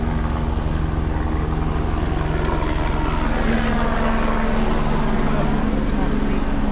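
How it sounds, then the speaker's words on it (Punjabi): Steady droning engine of a helicopter flying over the Hemkunt Sahib pilgrimage trail, loud and continuous throughout, with a constant tonal hum and broadband rotor noise. "ਲੈ ਉੱਧਰ ਹੈਲੀਕਾਪਟਰ ਜਾਏਗਾ"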